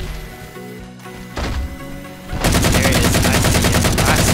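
Halo 4 multiplayer Flood mode: a few scattered shots and clicks give way to a sustained burst of rapid automatic gunfire, loud and close.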